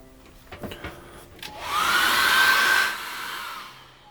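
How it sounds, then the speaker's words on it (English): A few brief clicks and knocks, then a hair dryer drying acrylic paint whirs loudly at close range with a high whine for over a second before tapering down. "dry that off again with a hairdryer"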